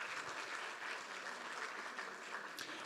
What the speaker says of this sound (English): a big round of applause to those who have stayed attentive at home or in the office as well online